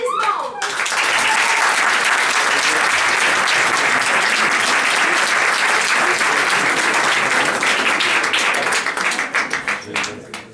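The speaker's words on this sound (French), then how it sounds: "Je vous demanderai donc de lui faire un tonnerre d'applaudissements." Sustained applause from a theatre audience greeting a comedy performer arriving for a sketch, loud and dense throughout, fading slightly near the end.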